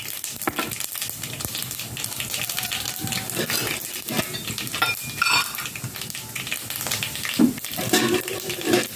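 Mustard seeds, chana dal and urad dal fry in hot oil for aval upma, giving a crackling sizzle with scattered pops and a few stirring clatters close by.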